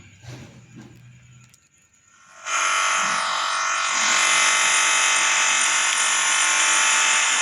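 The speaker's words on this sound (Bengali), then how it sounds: "যে এসিটা কীরকম ধরনের নয়েজ করে, একটু শুনে দেখো তোমরা" After a quiet moment, a Marq by Flipkart 1-ton 3-star air conditioner starts up with a loud, steady whooshing hum that keeps going without a break.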